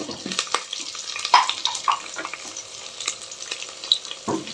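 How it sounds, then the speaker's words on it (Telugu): Cumin seeds and finely sliced green chillies sizzling in a hot pan for dal khichdi, crackling spits and pops over a soft frying hiss, close and fairly quiet. "జీలకర్ర వేస్తున్నా ఇప్పుడు పచ్చిమిర్చి కూడా వేస్తున్నా ఇట్లా సన్నగా కట్ చేసి పెట్టుకున్న పచ్చిమిర్చి"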